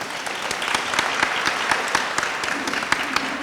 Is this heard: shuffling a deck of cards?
no